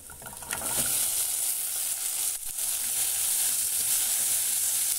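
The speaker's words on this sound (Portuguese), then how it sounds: "Então, eu já vou colocar aqui o quiabo na panela" Okra hits a hot pan with garlic and sizzles loudly, a bright steady frying hiss that swells after a brief softer start and continues close up without talk.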